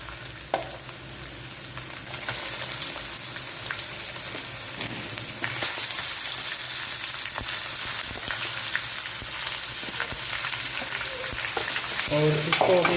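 Chicken frying in hot oil for Shinwari karahi, a continuous crackling sizzle that swells louder after it is added, with occasional stirring scrapes and a clatter near the end, no talking.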